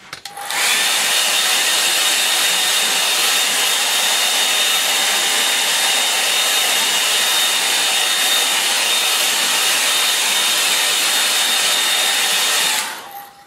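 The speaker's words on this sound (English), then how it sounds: "I'll give it a bit of a help with my hair dryer" A hair dryer, used to dry a watercolour painting, switches on and blows with a steady, high whirring rush for several seconds, then cuts off.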